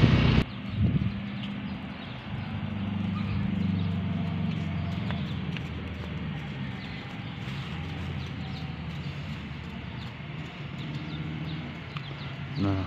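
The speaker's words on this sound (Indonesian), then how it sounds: "sepertinya masih ada kuda yang berlatih pada hari ini." Horses train at a traditional Gayo horse racing track in Bener Meriah, Aceh, their hooves clip-clopping faintly under a steady outdoor rumble while someone speaks now and then.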